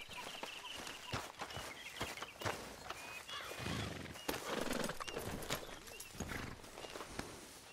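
A horse whinnies while hooves clip-clop steadily along, with faint voices in the background of a Red Dead Redemption 2 game scene.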